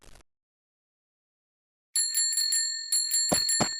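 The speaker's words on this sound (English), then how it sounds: "drowned out by the frantic ring-ring of bicycle bells" Bicycle bells ring in quick bursts, bright metallic trills repeating twice after a brief silence, loud and close.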